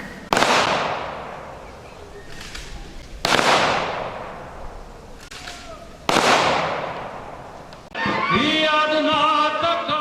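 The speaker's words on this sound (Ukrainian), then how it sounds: "На честь них був військовий салют." Three loud, sharp volleys of a military gun salute at a war memorial rally, evenly spaced about three seconds apart, each ringing out and fading, followed by a sustained tonal sound.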